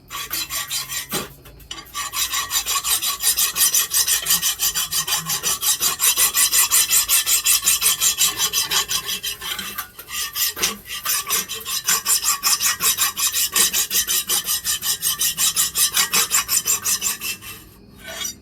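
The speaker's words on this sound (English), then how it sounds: "I can feel the file hit that every time." A metal file rasping back and forth in quick, steady strokes against a KE100 motorcycle engine top-end part, loud and close, with a brief pause midway.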